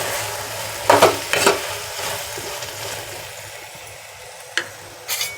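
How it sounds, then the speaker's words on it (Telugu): Chopped tomato pieces are stirred into a frying pan for a potato curry with fresh black-eyed peas and soya chunks. A few short scraping bursts sound over a soft background hiss, with no talking. "సన్నగా కట్ చేసి పెట్టుకున్న టమాటా ముక్కలు ఒకసారి కలుపుకున్నాము"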